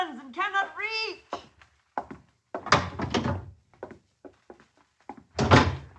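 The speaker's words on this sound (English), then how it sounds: "John, open the door" A door opens in an old-time radio crime drama with a couple of wooden knocks and thuds, set among spoken dialogue and pauses.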